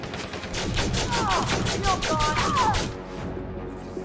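Rapid video-game gunfire rattles in a dense burst of repeated shots for about three seconds, with whizzing tonal effects mixed in, before it cuts off into quieter ambience.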